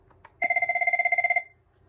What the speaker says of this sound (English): the default ringtones on the phone is Chirp 1 and Chirp 2